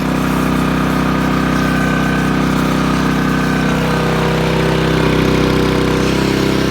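Kubota engine-driven pesticide spray pump running steadily at close range, a continuous loud mechanical drone with a constant engine hum and no speech.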